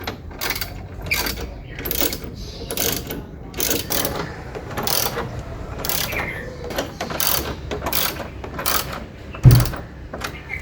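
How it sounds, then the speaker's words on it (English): A ratchet with a 12mm socket tightens the upper radiator support beam bolts on a Kia Sportage, giving steady repeated clicking strokes at close range, with one louder knock near the end. "Then tighten them evenly using a 12mm socket."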